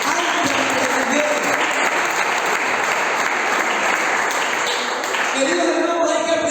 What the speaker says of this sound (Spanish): Regale un aplauso al Señor.